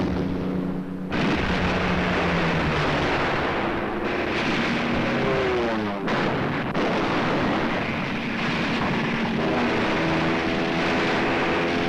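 Japanese warplanes attack American outposts in the Pacific, droning aircraft engines with pitch sweeps from passing planes, overlaid by loud booming explosions and rumbling blasts throughout.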